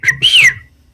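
A person whistles two quick notes, a short high chirp and then a longer rising-falling tone, close and loud, with faint room murmur underneath.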